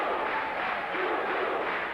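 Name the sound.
boxing crowd chanting "boom boom" for Ray Mancini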